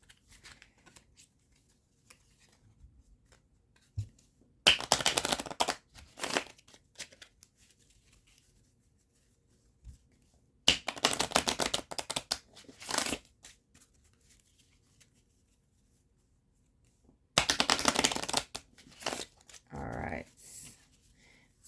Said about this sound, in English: we'll give these decks some shuffles